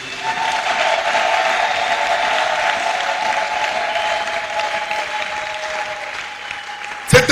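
Congregation applauding steadily in a church, a dense even wash of clapping held for several seconds with a sustained tone beneath, then a brief louder burst at the end.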